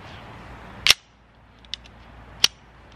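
A Kel-Tec CMR-30 rifle firing Federal V-Shock 30 grain ammunition: two sharp, short reports about a second and a half apart with a faint click between them, in an otherwise quiet outdoor setting.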